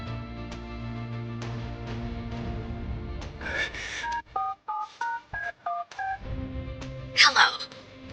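A phone number is dialed on a telephone keypad, a quick series of about eight distinct beeping DTMF tones at a steady rhythm, following a voice and followed by a gasp-like breath.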